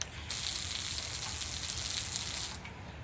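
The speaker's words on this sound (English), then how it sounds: "Watch when I turn on the water and let go." Water gushes from a tap into an expandable garden hose, a sudden bright rushing hiss that starts abruptly, holds steady for a couple of seconds, then cuts back to a quieter flow, close and without talk.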